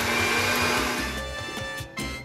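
Electric hand mixer running at high speed, beating egg yolks with lemon zest for a lemon pie, a loud close whine with beaters rattling and shifting pitch as they move through the bowl.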